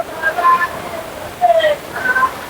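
Strong, muddy flow of a hidden village waterfall gives a steady rushing roar, with people talking over it throughout.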